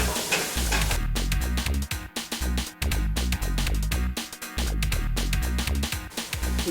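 Onion cooking in a pot for jambalaya, a bright steady sizzle broken by repeated stirring scrapes and clatters in an uneven rhythm, close and fairly loud with no voices.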